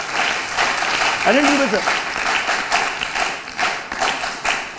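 An audience claps in a steady, sustained round of applause at an event honouring guests, while someone speaks over the clapping near the microphone.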